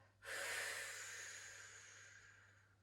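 A single long, close exhale through the nose during a standing reformer Pilates workout, starting abruptly and slowly fading over about two and a half seconds in a quiet room with a faint steady hum.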